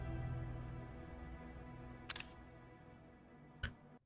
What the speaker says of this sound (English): Excuse the shutter noise.